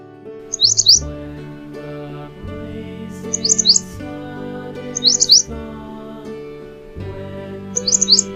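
Short bursts of bright bird chirps repeat about every two and a half seconds over a steady musical backing.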